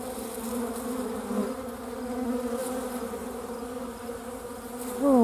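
Bees buzz around steadily and fairly faint, a continuous droning hum that swells slightly as insects pass nearby and rises sharply as one flies close at the end.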